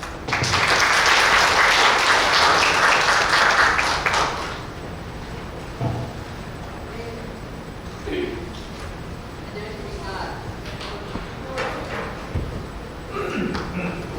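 Audience applause fills a meeting hall, welcoming the chairman of the Seongnam Smart Convergence Cluster to a regular exchange meeting. Loud, dense clapping lasts about four seconds, then fades into quiet room noise with scattered thuds and soft voices.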